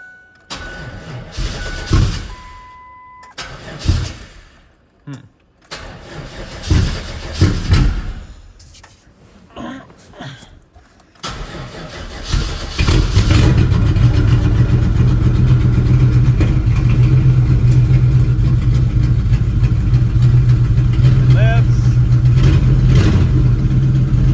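A Mazda B4000 pickup's swapped LT1 350 small-block V8 cranks in several short bursts, then catches and settles into a loud, steady, rumbling idle, seemingly misfiring, that continues to the end.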